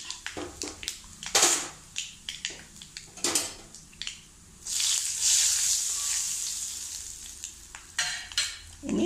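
Mustard seeds, dried red chillies, asafoetida and cumin tempering in hot oil in a pan, with spoon scrapes and clinks against the metal, then a steady loud sizzle and crackle building before more stirring knocks.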